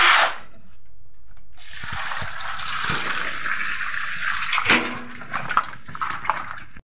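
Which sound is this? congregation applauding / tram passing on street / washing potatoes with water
washing potatoes with water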